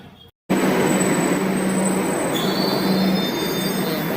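A metro train at a station in Kolkata, heard up close as a loud continuous rumble with a high, sustained wheel squeal that rises and shifts in pitch partway through, after a brief silent gap at the start.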